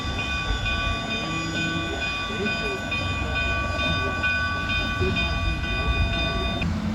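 A narrow gauge steam locomotive, number 488, idles and rumbles nearby on a coaling spur with a steady mechanical hiss and faint clanking, a constant drone with no voices.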